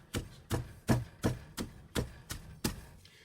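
Cabbage being pounded down in a crock with a wooden tamper for homemade sauerkraut: seven firm, evenly spaced thuds in a steady rhythm, close and fairly quiet, with no talking.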